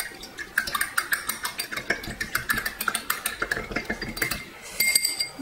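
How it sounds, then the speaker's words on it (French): Steady rhythmic clinking and scraping of a mixer tool stirring water in a container, close and fairly quiet, with repeated metallic taps throughout and no talking. "je vais mélanger comme ça avec le mélangeur"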